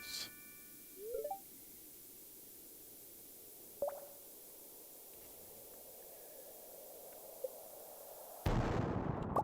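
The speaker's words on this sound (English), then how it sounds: "Bombs." Bombs go off in the Skull Cavern of the video game Stardew Valley: a few faint, brief pops and a sharp crack over quiet hiss, then a loud, sustained explosive blast at the very end.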